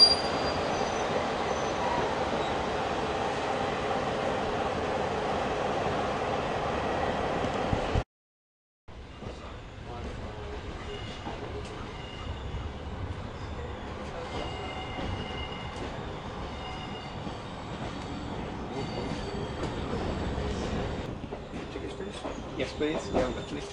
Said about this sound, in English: There's a diesel loco on the other end.